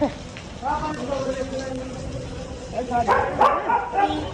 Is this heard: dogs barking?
yes